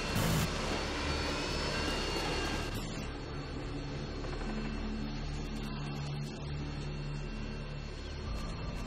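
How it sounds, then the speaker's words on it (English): Call of Duty Modern Warfare 2 Harrier jets fly over in a video game, a loud, steady roar of aircraft engines that sweeps through for several seconds with a sharper burst at the start. "Friendly Harriers inbound."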